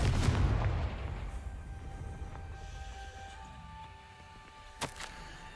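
A Confringo spell explosion in Hogwarts Legacy: a heavy booming blast up front that rumbles and fades over a couple of seconds, followed later by a sharp single crack.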